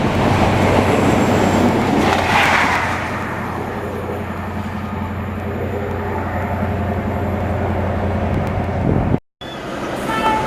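A Class 91 Virgin Trains East Coast express rushes through a station, a steady loud roar of wheels and rail noise with a rising burst early on, then continuous rumbling until an abrupt cut near the end.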